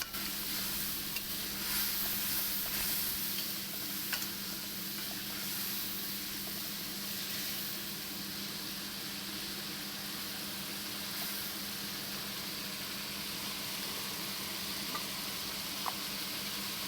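Egg and potato curry sizzles steadily in a pan after water is added, a constant close hiss and crackle of frying with faint stirring, holding an even level throughout with no talking.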